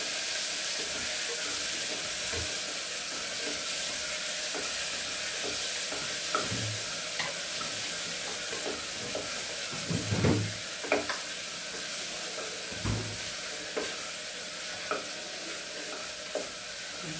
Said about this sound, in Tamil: வதங்கிட்டு அரிசியும் போட்டு கொஞ்சம் அந்த ஈரத்தன்மை இல்லாத வரையிலும்